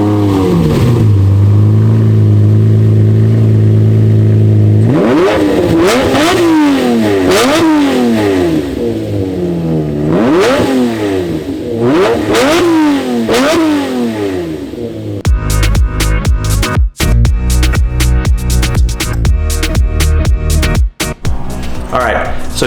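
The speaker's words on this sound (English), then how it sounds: "The symphony of the V12 Lamborghini Murcielago engine." The V12 engine of a 2008 Lamborghini Murcielago idles, then revs repeatedly in sharp rising and falling surges, loud and close, before a harsher, rougher stretch of running with a voice over it.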